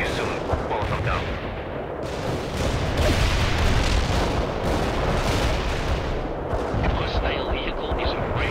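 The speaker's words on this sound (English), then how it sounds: "Firing mortar. The barrage will reach you soon." Mortar artillery barrage in the World in Conflict strategy video game: dense, continuous rumbling impacts and blasts that roll on throughout, loud and close, with radio-style voices talking over parts of it.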